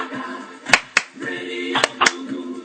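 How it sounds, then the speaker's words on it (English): Clapping along to a song: four sharp, distinct claps in two spaced pairs over a music bed, moderately close. "I love the part where they're just clapping."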